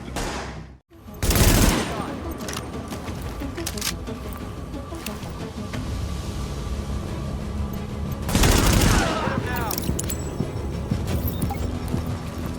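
Gunfire in Tom Clancy's The Division, with sustained volleys of rapid shots and two louder bursts standing out from a busy firefight, and voices mixed in.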